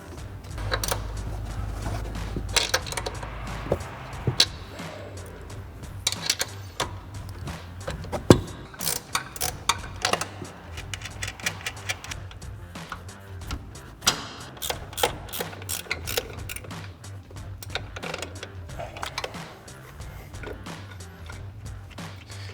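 Suspension strut mounting nuts on a 4WD Chevrolet Silverado 1500 are loosened and spun off, with repeated metallic clicks, ratcheting and clinks of tools over a low steady hum, close and fairly quiet.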